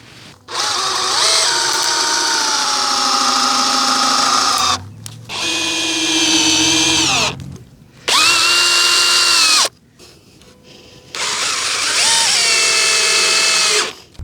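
A power drill drives screws into the wooden frame of a simple backyard nursery display table, whining loudly in four sustained bursts with short pauses between, the motor pitch shifting as each screw seats.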